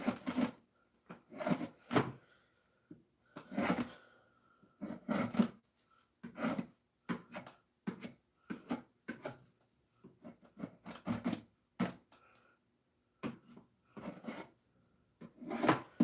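Steel file rasping along an axe edge during sharpening, in a series of short, uneven strokes separated by brief pauses, close and fairly quiet with no talking.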